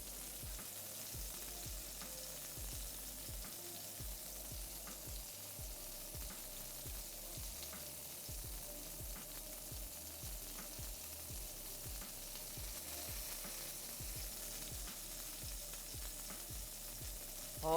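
A steak sears in a hot pan with a long, even sizzle and fine crackling. The sound is close and fairly quiet, and no one speaks.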